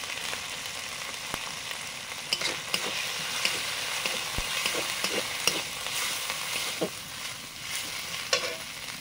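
Spice paste of ginger, green chilli and turmeric frying in a pan, a continuous sizzle broken by scattered scrapes and clicks of stirring, close and steady with no talk.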